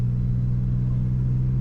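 A 5.9 Cummins diesel truck accelerates hard uphill under boost from 1,800 RPM in fifth gear, giving a steady, loud, deep engine rumble heard up close and alone for a short moment.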